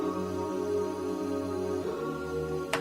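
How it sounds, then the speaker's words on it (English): Sustained synth pad chords sit beneath pianos in a K-pop track, forming a warm, steady wash that shifts chord about two-thirds of the way through. "Also with a pad, it sounds like this."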